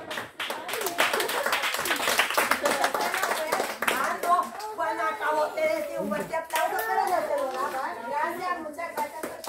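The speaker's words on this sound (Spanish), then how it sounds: "¡Aplauso!" A crowd claps steadily at a children's party with piñatas, lively and close, while children's voices and chatter run over and under the applause.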